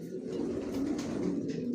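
A Johnson racing pigeon coos softly and continuously, a low murmuring call close by with no talk.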